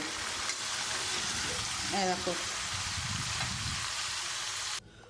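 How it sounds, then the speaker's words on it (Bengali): Potatoes frying in hot oil in a pan, a steady broadband sizzle with stirring, and a brief voice speaking partway through before the sound cuts off near the end. "আমি আলুগুলো লাল লাল করে একটু ভেজে নিয়েছি"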